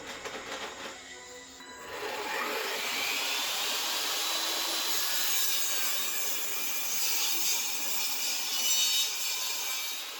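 A wooden board is fed through a power saw, first a short whir, then a steady loud rasping cut that holds for about eight seconds nearby, with no voices.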